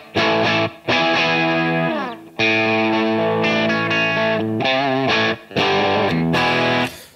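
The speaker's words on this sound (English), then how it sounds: "So this is nothing but phase inverter distortion." A guitar played through a power amp pushed into phase inverter distortion, with the master turned down: loud, gritty sustained chords and notes in several bursts separated by brief gaps.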